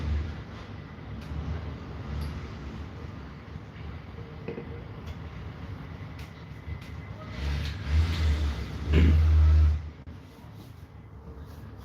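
Racing karts at Nutts Corner circuit during an Ulster Karting Championship session, engine drone rising and falling at a distance, then a louder kart passing close near the end before fading.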